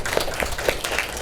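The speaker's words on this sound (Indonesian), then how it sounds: "tepuk tangan dulu" Brief burst of classroom applause for student groups at the end of a lesson: a scatter of quick claps from a small class, moderately close and steady for about a second, with no talking over it.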